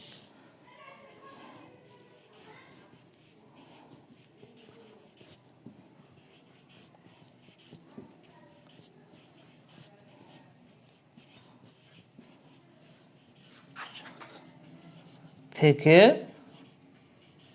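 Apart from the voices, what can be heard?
writing by hand on paper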